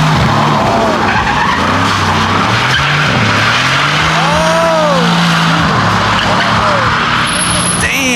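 Lamborghini Urus tires skidding and squealing during a smoky burnout at Monterey Car Week, loud and close, with wavering engine revs and tire screech over crowd noise.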